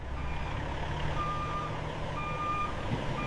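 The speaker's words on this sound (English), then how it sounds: "The refrigerated truck arrives at the retail store dock for final delivery." Reversing beeps from a refrigerated truck backing up to a retail store loading dock, a steady run of evenly spaced electronic tones over a continuous low engine rumble.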